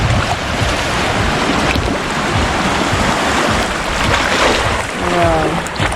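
Ocean waves wash steadily onto the beach at Las Salinas, Ibiza, in a loud, continuous surf roar mixed with wind noise on the microphone.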